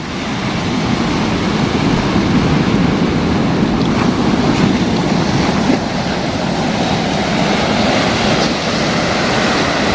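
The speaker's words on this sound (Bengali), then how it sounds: "যে কত উঁচু ঢেউ এবং কত কাছে থেকে আপনাদেরকে আমি দেখানোর চেষ্টা করছি শব্দটা অবশ্যই বুঝতে পারছেন" Loud, continuous roar of ocean surf breaking close by at Patuar Tek beach, Cox's Bazar, with wind buffeting the microphone throughout.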